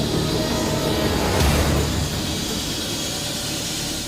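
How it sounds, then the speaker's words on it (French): A helicopter starting up for a medical evacuation flight after a bicycle accident, a steady loud turbine and rotor roar building slightly then holding constant throughout. "a mis l'hélicoptère en route."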